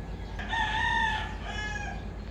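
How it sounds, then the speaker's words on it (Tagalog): A rooster crows once in a long, drawn-out call against a steady background hiss, clear and at moderate distance, in a seaside province. "yung mga tulaok ng manok, tilaok. Nagigising ako sa tilaok."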